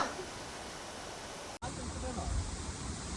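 Rushing water at a monsoon waterfall on a road trip from Chikkamagaluru to Sakleshpura, a continuous broad roar that briefly cuts out midway, then resumes louder and fuller with a faint voice mixed in.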